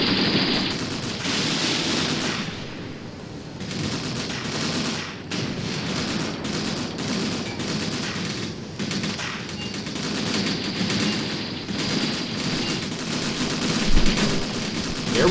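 Sustained machine gun and rifle fire in the tactical war game Graviteam Tactics, set in the Soviet-Afghan War, with dense overlapping bursts and distant crackling shots rolling on steadily without a break, with a heavier thump near the end.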